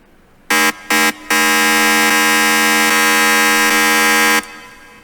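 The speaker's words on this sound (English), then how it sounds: "So that's just your standard sort of FM sound" FM synth tone in Serum, a square wave frequency-modulated by a sine with no filter, two short buzzy blips followed by a long loud sustained note, bright and harsh, alone.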